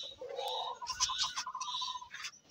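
A pet parrot kept at home, noted as sick, calling in a few harsh, squawking cries with warbling rises, close and moderately loud with no talking over it.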